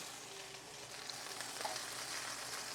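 Beef stew meat sizzles steadily in a frying pan, with faint scattered pops of grease over a continuous soft hiss and no talking.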